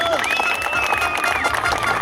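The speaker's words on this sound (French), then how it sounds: "J'aimerais qu'on applaudisse très fort Clinton Moore." A crowd at an outdoor air show claps and cheers for stunt rider Clinton Moore, a dense, continuous roar of hands and voices, with an announcer's voice and a whistle-like tone sweeping over the top.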